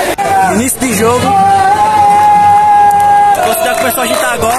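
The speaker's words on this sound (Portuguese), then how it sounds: "A torcida começou a agitar agora." A football stadium crowd at a CRB versus CSE Campeonato Alagoano match stirs up, with babble and cheering under a long, steady horn-like wail that rises and holds.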